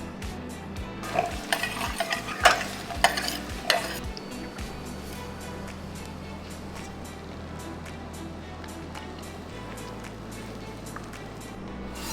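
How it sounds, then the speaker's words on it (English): Nuts roast in ghee in a pan as a utensil scrapes and clatters for a few seconds, then a steady, soft sizzle carries on alone at close range. "Now it's time for us to roast off some nuts, and we're roasting it in ghee."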